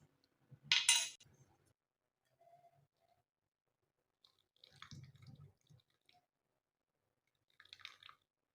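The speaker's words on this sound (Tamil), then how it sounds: "இந்த டீத்தூள் தண்ணியை நம்ம வடிகட்டி அதில் சேர்த்துக்க போகிறோம்" Tea decoction poured through a strainer in a few short splashy bursts separated by quiet pauses, with faint clinks, close by.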